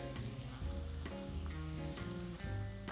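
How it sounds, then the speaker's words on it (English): Onions and peppers sautéing in a pan for a red sauce give a steady close sizzle throughout, overlaid by low tonal hum and a few clicks, with no talking. "the onions and peppers have been sauteing for a little while here"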